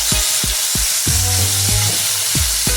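Vegetables being sautéed in a pan for ginisang gulay, a loud close sizzle with rhythmic low thumps of stirring repeated about every half second and a brief tonal hum in the middle.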